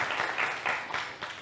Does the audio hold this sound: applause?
yes